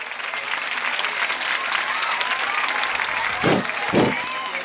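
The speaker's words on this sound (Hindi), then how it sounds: "ये इंचार्जेस के लिए भी एक बार जोरदार तालियां हो जाए" An audience at a school annual function claps loudly for the teachers in charge of a play, a steady dense round of applause with a couple of low thumps near the end.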